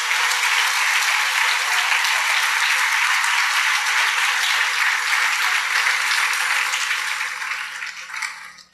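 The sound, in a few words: church congregation applause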